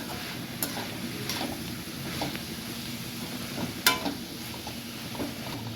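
A spoon scrapes and stirs mixed vegetables with cauliflower in a pan, giving soft intermittent clinks and taps over a low, quiet sizzle, with no voices.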